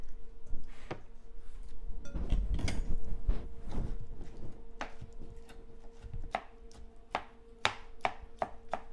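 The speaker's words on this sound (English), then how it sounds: "pour off a little bit more liquid off the tomatoes, and then cut them up a little smaller" A knife chops tomatoes into smaller pieces on a cutting board, giving a run of sharp, close knocks in an uneven rhythm: a dense burst early, then separate crisp strikes toward the end.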